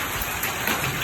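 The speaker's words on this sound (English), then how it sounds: "So that's how long it's been hailing." Hail falling during a storm, a dense, steady wash of hard pattering impacts that stays even throughout with no pauses or voices.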